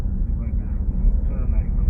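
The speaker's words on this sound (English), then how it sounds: "That's a helicopter." A helicopter passes overhead at night in Los Angeles, producing a steady, fairly loud low rumble that holds constant for the whole stretch with no break.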